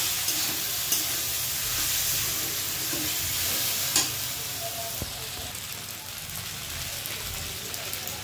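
Pasta noodles being stirred in a hot pan make a steady sizzle broken by scraping and clinks, with a few sharper knocks along the way.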